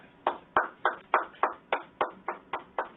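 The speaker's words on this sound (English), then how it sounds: "Now what I want you to do is clap 3 times." Steady, close hand claps from a patient under neurological examination for atypical parkinsonism, about nine even, sharp claps in quick succession with no talk.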